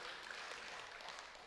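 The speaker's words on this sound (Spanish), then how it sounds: "Denle un aplauso a nuestro Dios, a ese Dios" A church congregation applauds in a steady, dense wash of clapping that fills the whole moment without pause, loud and close, with no voice rising above it.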